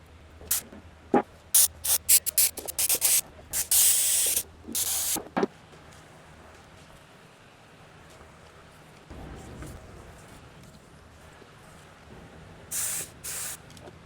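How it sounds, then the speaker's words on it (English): Spray gun laying base coat paint onto a salvaged BMW 535i E60 body, heard as a run of short, loud hissing bursts with brief pauses in between, then a long quiet stretch before two more bursts near the end. "then we'll start spraying our base coat."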